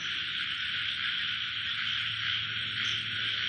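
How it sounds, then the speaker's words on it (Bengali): Night chorus of crickets and frogs after rain beside waterlogged ground, a dense continuous high trill with a low croaking layer underneath, steady and fairly close, no talk. "চারিদিকে ব্যাঙের আওয়াজ, কত চারিদিকে ব্যাঙের আওয়াজ হচ্ছে।"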